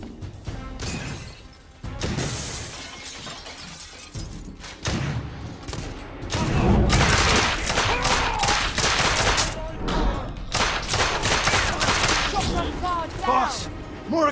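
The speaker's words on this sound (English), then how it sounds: "Under heavy fire!" Gunfire and shooting rage through a combat scene in The Order: 1886, with bursts, crashes and impacts stacking densely for most of the stretch, loud and close, while voices shout over the fighting.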